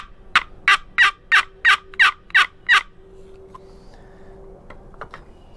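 A hand-squeezed turkey call blasts out eight quick, loud gobbling yelps in a steady rhythm close to the listener, then leaves a quiet tail of faint background hum and small clicks.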